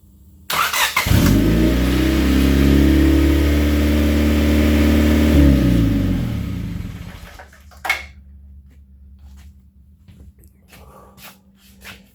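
A junk car engine runs loudly with a surging, uneven idle whose pitch rises and falls, then drops off to a faint low hum with a few short knocks toward the end.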